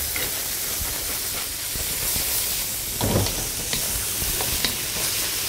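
Batter fries in a little oil in a pan, giving a continuous soft sizzle and hiss with a few sharper crackles and stirring clicks, fairly quiet and close.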